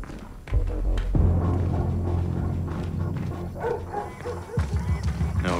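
A dog barks several times at a private estate in the stealth game Splinter Cell: Blacklist, with sharp yips mixed among game sounds and a man's speech.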